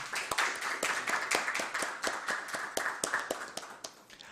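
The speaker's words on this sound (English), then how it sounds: "May I ask for a huge round of applause for Professor Ranjan?" Small audience applauding at the close of a defence and security talk, sparse distinct hand claps in an uneven rhythm, fairly near and moderately quiet.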